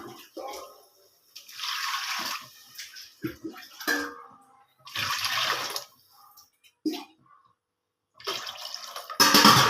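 Bursts of water pouring and splashing into a cooking pot for lentil rice, starting and stopping several times, with a voice speaking in between.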